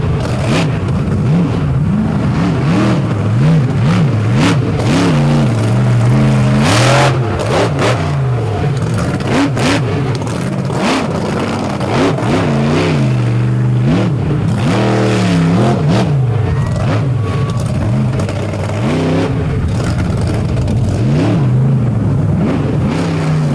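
A Brad Anderson Hemi in the Virginia Giant race truck from Fairfax, Virginia, roars loud and close at an event in Tennessee, revving in rapid rising-and-falling bursts with harsh throttle stabs, continuous throughout.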